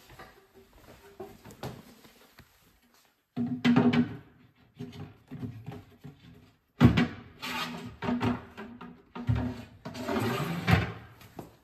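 A kitchen cabinet drawer on slide-out drawer slides is pushed in and pulled out several times, giving clattering, rumbling runs and thumps between quiet pauses, fairly close and somewhat noisy.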